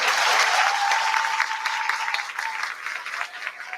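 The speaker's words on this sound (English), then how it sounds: "We get a big round of applause for Ms. Moss." A school audience at a fifth-grade awards ceremony gives a big round of applause for a teacher, a steady dense wash of many hands clapping that stays loud throughout and tapers slightly near the end.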